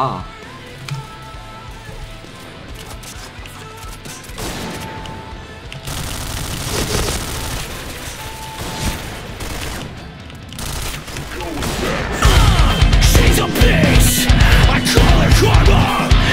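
In the shooter game Point Blank, the GRS2 rifle fires in repeated bursts of gunfire, growing louder and denser toward the end, with someone talking over the shots.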